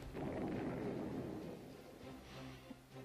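A machine gun emplacement blows up in a video game: a heavy, booming explosion with a long rumbling roar that slowly fades, leaving a lower, steadier hum at the end.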